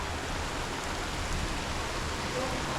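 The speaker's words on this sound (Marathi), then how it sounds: "आणि बघा पाऊस पडतोय" Steady April rain falls across the Konkan countryside, a dense, even hiss of drops with no distinct individual hits, filling the whole clip at a constant moderate level.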